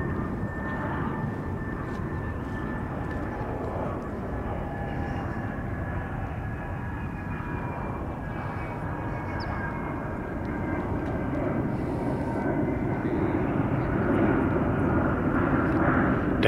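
A United airliner takes off from runway 1 right at SFO on a calm day, its engines making a continuous broad roar with a whining tone, steady and moderately distant, swelling louder toward the end.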